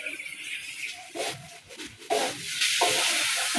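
Spiced masala with Kashmiri chilli powder being stirred and fried in a pan for a soybean curry, giving a steady close sizzle with repeated scraping stir strokes that grow louder toward the end.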